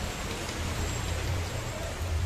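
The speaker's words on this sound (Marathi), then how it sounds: "एकदम जोरात पडणारा पाऊस आहे सोबत" Heavy rain falls in a constant dense hiss with a low rumble underneath, no speech over it.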